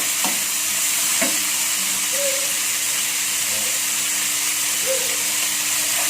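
Green beans and tempeh with a little sugar are stirred in a frying pan, giving a steady soft sizzle and hiss with a few scraping knocks of the spatula near the start.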